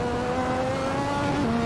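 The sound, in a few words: Lotus 98T race car engine accelerating, Assetto Corsa video game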